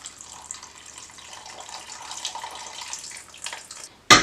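Warm water poured for a beginner sourdough bread dough, a thin continuous trickle running for several seconds, quiet and close, ending with a brief louder splash or clatter.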